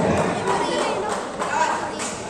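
A basketball game crowd applauds a player, a loud, diffuse wash of clapping and cheering heard close, with an announcer's voice over it.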